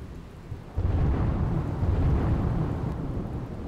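Heavy monsoon rain pours down in Mahisagar district, a dense low roar that swells suddenly after a quiet start and holds loud and steady, deep rumbling mixed into the downpour with no voices.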